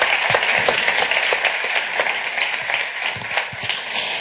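Audience applause for a presenter at a talk on youth and social media, dense steady clapping from a crowd filling the room, sustained at even loudness throughout.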